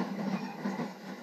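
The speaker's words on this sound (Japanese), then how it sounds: "This is an airport Narita train for Narita Airport." Steady rumbling and rattling of an Airport Narita train rolling along the rails in Japan, a continuous low roar with faint rhythmic clatter.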